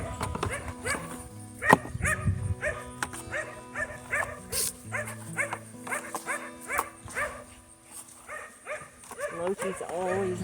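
A border collie barks repeatedly in the background of a garden, a rapid string of sharp barks and yips while a person talks over it.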